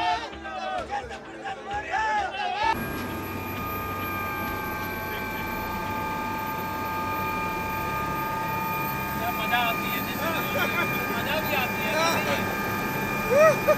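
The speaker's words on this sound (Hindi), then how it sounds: "हमारा हेलीकॉप्टर उड़ने के लिए तैयार है" A helicopter readies for flight on the ground, its engine whining with a steady high-pitched tone and broadband rumble after a sudden start, while people talk nearby throughout.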